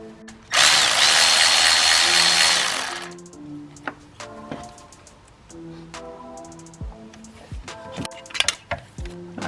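A power tool loosens a 10mm nut on a Ford 6.0L Powerstroke diesel engine in an F250/F350. It makes a loud, close whir of about two and a half seconds, followed by scattered metallic clinks and taps of tools and parts.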